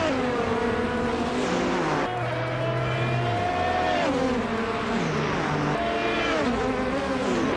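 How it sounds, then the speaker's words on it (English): A 2015 Audi R18 e-tron Quattro LMP1 race car in a racing video game, its engine droning loud and continuous with rising and falling pitch through gear shifts and revving, no talk. "driving that sleek 2015 Audi R18 e-tron Quattro in the LMP1 Class 8D"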